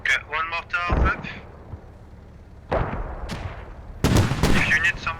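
Heavy booming impacts of mortar fire in the video game Squad, several sharp bursts with rumbling tails, the loudest near the end, while voices talk over the radio between blasts.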